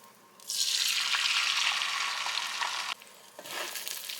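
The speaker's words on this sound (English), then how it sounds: "Now I think my butter's hot enough. I'm going to go ahead and add my egg in." An egg hits hot butter in a pan with a loud, steady sizzle that rises suddenly, holds for a couple of seconds, breaks off briefly and then resumes more quietly, with no voices.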